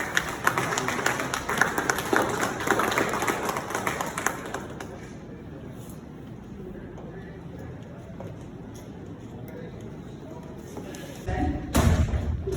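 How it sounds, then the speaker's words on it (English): An audience at a book launch claps for a keynote speaker. Dense, fairly loud applause with thuds runs for about four seconds, then settles into quiet room ambience, and a brief bump of noise comes near the end. "Please put your hands together."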